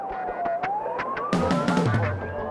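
Police car siren wailing in a continuous rising and falling sweep, loud and fairly close, with a few sharp knocks and a rumbling vehicle underneath.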